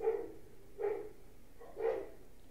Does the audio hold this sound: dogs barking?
yes